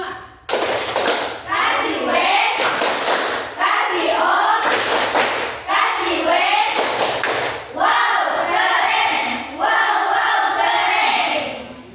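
A group of seventh-grade children chant loudly in unison while doing an appreciation clap in a patterned rhythm, with bursts of claps and thumps between the chanted phrases.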